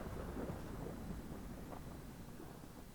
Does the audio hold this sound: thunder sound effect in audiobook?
yes